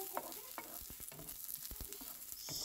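Onion stir-fried in a pan gives a soft, close sizzle broken by a series of scraping stirs and knocks, fairly quiet throughout.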